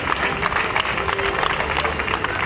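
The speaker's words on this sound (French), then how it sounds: "On les applaudit" A crowd applauds a winning Moroccan team at a neighborhood football cup ceremony, dense continuous clapping and cheering filling the space under a loud, steady wash of noise.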